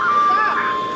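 Music from a Hello Picnic ice cream truck plays a bright, steady electronic tune at close range, with a voice talking over it.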